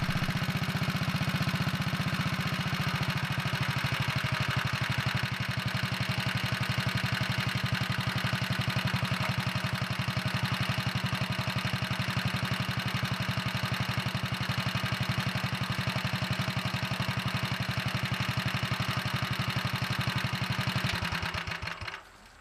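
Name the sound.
Kohler engine of Wheel Horse 401 idling at lowered speed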